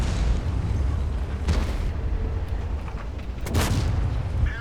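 A tank cannon fires in World of Tanks with two sharp, loud booms a couple of seconds apart over a constant low engine rumble, no talking.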